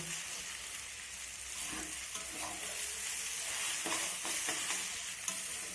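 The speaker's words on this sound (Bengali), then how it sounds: "এক সাইডে এই ডিমটাকে এইভাবে ঝুড়ি করে ভেজে নেব" Egg scrambles and fries in a pan pushed to one side among leftover rice, giving a soft continuous sizzle with frequent scraping stirs throughout.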